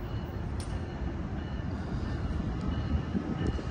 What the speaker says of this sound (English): Here she comes now, arriving on track number 2 at Emeryville Station.